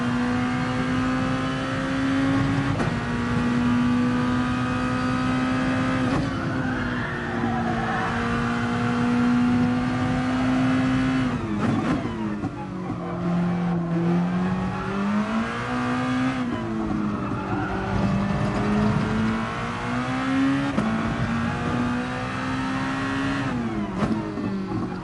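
A race car engine in a racing video game screams at full throttle for the whole stretch, climbing in pitch through the gears with brief dips at each shift, loud and close, and no talking.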